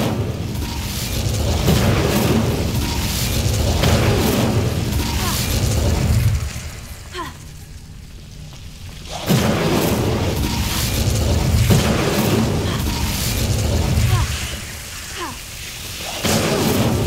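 A fire spell is cast in Hogwarts Legacy as a series of loud, booming whooshes and bursts that swell and fade in waves, with a brief quieter lull in the middle.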